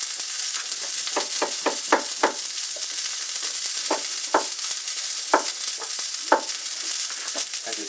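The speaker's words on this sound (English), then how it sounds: "I'm also going to saute some mushrooms because I like mushrooms" Mushrooms sauté in a cast iron pan with a continuous hot sizzle. Quick scraping stir strokes come in bursts on top of the frying hiss, with no voices.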